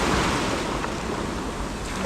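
Sea waves washing onto the shore at Somnath on the Gujarat coast, a steady, broad roar of surf with wind buffeting the microphone, continuous and fairly loud throughout with no voices.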